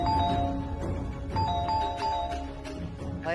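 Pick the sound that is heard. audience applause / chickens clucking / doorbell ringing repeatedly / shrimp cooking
doorbell ringing repeatedly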